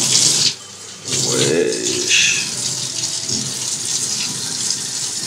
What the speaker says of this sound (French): On a réservé un hôtel et on a eu la très bonne surprise d'avoir de l'eau marron